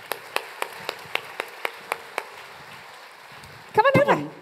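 Light, rhythmic clapping from an audience at a live space science show, welcoming a young volunteer, about ten crisp claps fading out, followed by a brief burst of speech.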